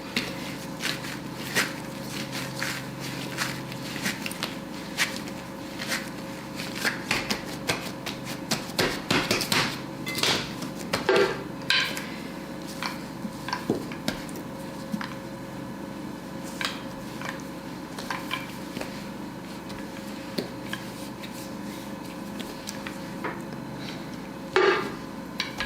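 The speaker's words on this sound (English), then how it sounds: "give it a quick knead before I roll it." Pastry dough for fried Schmalzgebäck being kneaded by hand, heard as repeated close thumps and soft pats on a work surface, irregular and moderately loud throughout with no talking.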